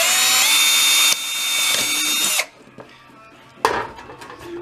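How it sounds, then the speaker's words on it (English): A power drill whines loudly as it bores a pilot hole through a tin canning lid into the can, a sustained high motor drone that cuts off, then a brief second burst. "Went through the canning lid into the can."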